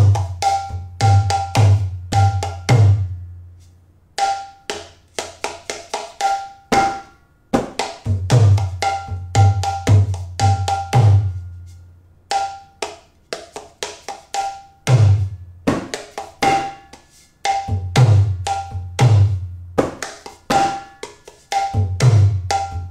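A mridanga hand drum plays a kirtan rhythm of sharp strokes and deep booming tones in repeated phrases, with brief pauses between groups.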